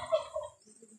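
A turkey gobbles once at middling distance in an outdoor rural setting, a short burst of rapid throaty warbles that fades out, followed by quieter low rustling.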